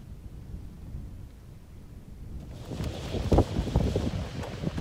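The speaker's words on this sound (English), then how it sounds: "The wind is out of hand." Strong night wind buffets an open pasture campsite near Leavenworth, surrounded by coniferous mountains, as a low rumbling roar that swells and gusts louder partway through.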